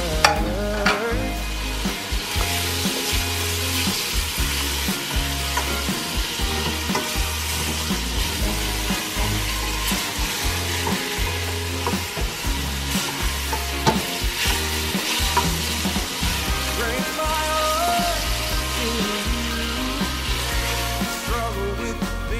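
Tomatoes sautéing in hot oil for ginisang monggo with beef bones, a steady loud sizzle with frequent clattering stirs of a utensil against the pan throughout, close up and with no talking.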